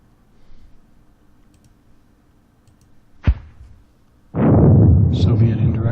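In a war video game, an indirect artillery shell lands near an orchard: a sharp close crack, then a loud rumbling blast that rolls on to the end, with quiet clicks before it.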